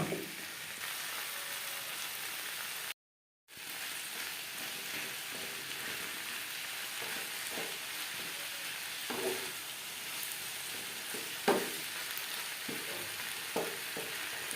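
Chopped onion and tomato frying together on high flame, a steady close sizzle broken by occasional scraping stirs of a spatula in the pan, with a brief dropout early on.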